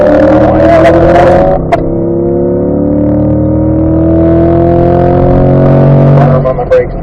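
A C8 Corvette engine accelerates hard on a race track, a loud, close, continuous rising drone climbing through the revs with a brief shift break, while a voice talks over it.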